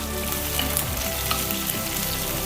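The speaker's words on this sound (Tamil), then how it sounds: "நான் கொஞ்சம் சின்ன வெங்காயமும் கொஞ்சம் பெரிய வெங்காயமும் கலந்து போடுறேன். இப்போ நல்லா வதக்கணும்." A mix of small shallots and large onions sautéing in a pan for Tamil paruppu urundai kuzhambu, giving a steady, close sizzle and crackle of frying with faint stirring, no voices.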